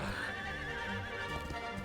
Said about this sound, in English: there just happen to be two horses here